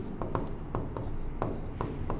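Marker or chalk strokes scraping across a classroom board in a steady rhythm of short rubs, close and fairly loud, with no voices.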